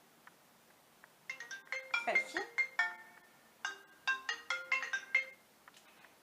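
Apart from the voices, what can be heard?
default iPhone ringtone playing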